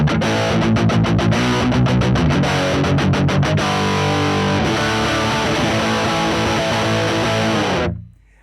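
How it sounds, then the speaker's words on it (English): Fender Tom Delonge Stratocaster played at full distortion through an effects unit: loud, dense chugging rhythmic strums that give way to a sustained ringing chord, which cuts off abruptly near the end; no voices. "So this is full distortion just as it is."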